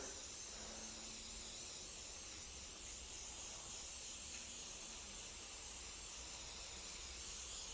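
Paint misted from a spray can onto a canvas art piece, a continuous, even hiss held for several seconds, faint and steady, with no voices.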